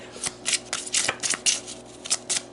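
Tarot cards are shuffled and pulled by hand, a quick run of about a dozen crisp riffling bursts and papery slides, close and fairly loud, with no talking.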